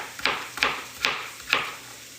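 Four evenly spaced knife chops cut vegetables on a cutting board for butternut squash and sage soup, each stroke a crisp, fairly close knock with a brief tail, no voices.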